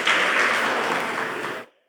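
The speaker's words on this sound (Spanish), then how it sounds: "Un aplauso para esa valiente" A church congregation at a Sunday worship service breaks into brief applause, a dense burst of clapping lasting under two seconds before cutting off sharply.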